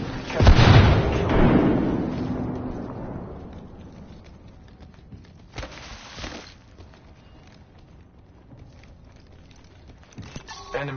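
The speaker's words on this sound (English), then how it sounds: "Frag grenade sent. Frag grenade. Grenade." A frag grenade detonates in the video game Apex Legends: one loud, close blast with a long decaying rumble, followed by scattered footsteps and small impacts at lower volume.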